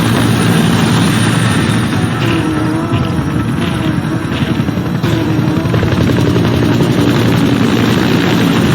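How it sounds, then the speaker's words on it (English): A support helicopter in Metal Gear Solid V: The Phantom Pain, its rotor thumping steadily overhead, loud and continuous, with a low engine rumble beneath it. "Support helicopter requested."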